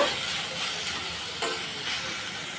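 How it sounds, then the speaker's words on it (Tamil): Curry leaves and garlic sauté in a pan for a Tamil curry, giving a steady, close hiss of frying with a few light stirring scrapes and no voices. "இது எல்லாத்தையும் சேர்த்து நல்லா வதக்கி விட்டுக்கலாம்."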